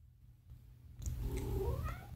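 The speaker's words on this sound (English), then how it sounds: "Oh my god, my cat." A cat meows once in a rising, drawn-out cry that starts about a second in, heard fairly close over a low background hum, with no voices.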